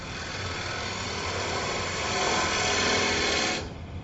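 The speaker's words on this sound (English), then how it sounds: "I take the bowl gouge and I stick it in the middle" A steady whirring lathe drone with a rough, scraping grind of a bowl gouge cutting wood layered on top, running continuously before the cutting noise abruptly drops away near the end.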